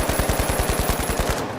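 Rapid automatic gunfire from a video game played on a Gamesir G7 Pro 8K controller, a steady, loud stream of about a dozen evenly spaced shots with no voices.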